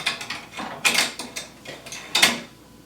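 Embroidery hoop loaded onto a Brother Persona embroidery machine, a series of close plastic clicks, slides and clunks in an irregular rhythm, ending in a firm snap.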